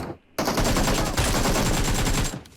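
Automatic gunfire in the mobile battle royale game PUBG Mobile, a loud rapid burst of shots that starts abruptly after a short quiet moment and runs for about two seconds.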